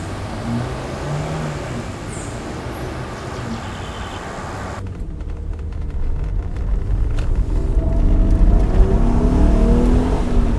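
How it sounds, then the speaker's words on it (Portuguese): Alfa Romeo Spider V6 engine revving, a loud, rumbling roar that builds in strength through the second half as the car pulls hard, with no voices over it. "Esse som de Alfa V6 é uma das coisas mais lindas que alguém pode ouvir"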